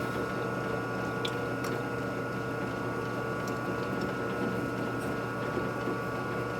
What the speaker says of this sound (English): You can hear the file not too happy about it.